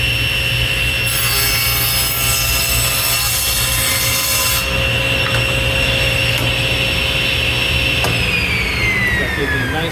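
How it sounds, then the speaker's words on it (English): A table saw runs with a loud, steady whine while trimming the edge of a wooden board for a stool top, the tone holding throughout and dipping slightly near the end. "I'm just running that nice clean edge that I just cut on the table saw"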